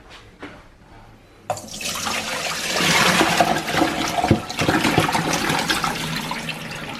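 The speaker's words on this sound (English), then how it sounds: "So I'm going to drain them and let them dry a little bit" Par-cooked pasta shells are poured into a strainer in a home kitchen, a couple of faint clinks giving way to a sudden, steady rush of draining water that splashes on for several seconds, close and fairly loud.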